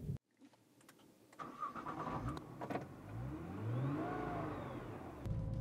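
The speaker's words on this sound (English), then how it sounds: "as I'm heading out onto the racetrack here in the GT-R" A Nissan GT-R fires up and pulls out onto a racetrack, the engine catching after a few clicks, then rising and falling through loud, close revs as it accelerates.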